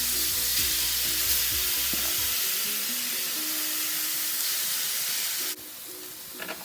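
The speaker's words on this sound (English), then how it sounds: "Okay, my beef's in there and it's sizzling." Beef sizzles and fries in a hot wok for beef ramen, a steady broadband hiss with a few clinks and low knocks early on and a brief drop in level near the end.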